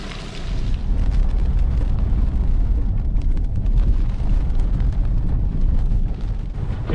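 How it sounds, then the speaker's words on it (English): Heavy rain roars as a 4x4 drives a forest track through thick lantana in Queensland's Kenilworth and Imbil State Forests. The wash is loud, dense and continuous, with a deep low rumble underneath and no talking. "It's now bucketing down"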